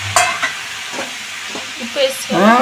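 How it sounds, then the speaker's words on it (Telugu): Tomatoes are stirred into a hot pan for an idli chutney, producing scraping strokes with a soft sizzle underneath at close range. "ఒకటిసారి టమాటాలు వేసేస్తున్నా అందులోనే దీంట్లో వేసుకోవచ్చు దీంట్లో మగ్గిపోతుంది"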